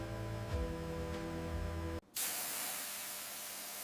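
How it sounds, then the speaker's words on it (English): Automated machine sprays a light mist of natural preservatives over cut watermelon in a fruit processing plant. A steady, close hiss starts abruptly after a brief gap and continues alone. "A light mist of natural preservatives is applied to lock in the freshness and flavor"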